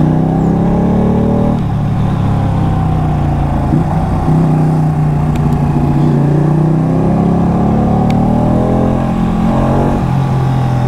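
Ducati Panigale motorcycle at full throttle, a loud, steady engine roar with shifting tones as it accelerates through gears, continuous and close for the whole stretch with no talk.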